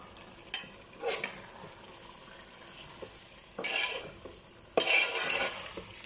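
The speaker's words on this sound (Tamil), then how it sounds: "நல்லா மிக்ஸ் பண்ணி விடலாம்." Chicken being stirred into a masala gravy for Chennai-style chicken biryani, a few separate scraping and sloshing strokes rising out of a quiet background with no talking.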